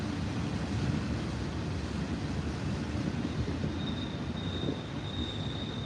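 Train passing at night and picking up speed, a continuous loud rumble of rolling wagons with a thin, high wheel squeal emerging in the second half.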